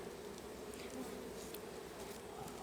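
Honey bees buzz around an open hive while brood frames are pulled during a late-summer inspection. The drone is continuous and soft, with no talk.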